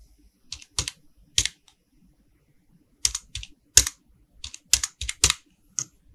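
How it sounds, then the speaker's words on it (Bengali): Computer keyboard keys tapped in quick clusters while a national ID card number is entered, crisp close clicks in irregular bursts separated by short silent gaps, no speech. "প্রথমে আমি জাতীয় পরিচয়পত্রের নাম্বারটা লিখে দিচ্ছি।"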